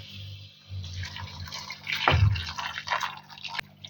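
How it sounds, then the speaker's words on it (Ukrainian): Boiling hot sugar syrup is poured over cherries for candied fruit, making a brief close splash and liquid trickle with faint drips. "І тепер киплячим гаряченьким заливаємо наші вишні."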